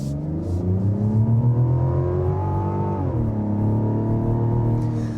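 The turbocharged inline-six engine of a 2026 Mazda CX-90 SUV hums steadily and revs with rising pitch, then drops briefly before climbing again, loud and close with no talking.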